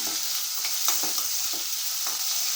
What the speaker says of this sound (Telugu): ఇప్పుడు కట్ చేసి పెట్టుకున్న ఉల్లిపాయ ముక్కలను అయితే వేసేసుకుంటున్నాను